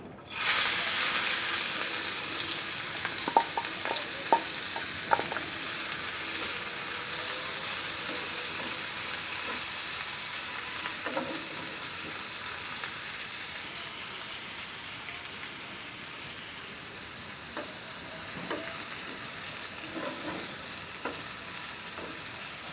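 Chopped onion fries in hot oil for a koi fish and peas dish, a loud, steady, close sizzle that runs throughout, with faint occasional clicks of stirring.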